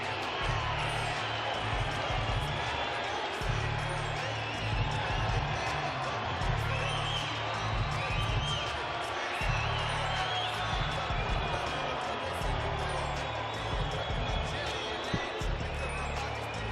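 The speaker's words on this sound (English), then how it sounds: "It's a largely pro-Taylor crowd, as you can hear." Boxing arena crowd at a Bernard Hopkins versus Jermaine Taylor title fight, largely supporting Taylor, a constant loud roar and murmur filling the hall while a commentator talks over it.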